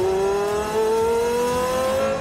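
A Porsche 918 Spyder with its hybrid V8 revs hard at Magny-Cours circuit, a loud, close, steady high-pitched engine howl that climbs gradually in pitch throughout.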